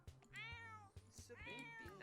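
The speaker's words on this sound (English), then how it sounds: "Why are you meowing?" A cat in The Sims 4 video game lets out a string of loud, drawn-out meows, several in quick succession over two seconds, heard alone and up close.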